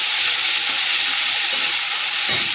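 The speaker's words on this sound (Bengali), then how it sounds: "আদা রসুন বাটাটা দিয়ে একটু নাড়িয়ে নিই" Onion with ginger-garlic paste fries in a pan, giving a loud, continuous sizzle broken by a few soft scraping stirs.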